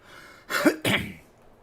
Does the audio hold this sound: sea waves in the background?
no